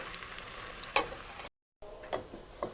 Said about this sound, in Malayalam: ഇനി ആ പഴം ഒന്ന് സോഫ്റ്റ് ആവുന്നത് വരെ ആ നെയ്യിൽ നന്നായിട്ടൊന്ന് വഴറ്റിയെടുക്കാം